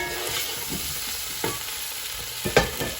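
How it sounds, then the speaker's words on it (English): Minced meat keema stirred and broken up in a hot frying pan, a continuous sizzle with a few louder scrapes and clatters of the spoon near the end, close and without speech. "Just mix the keema in, making sure it just breaks up nicely and there's no like big pieces stuck together."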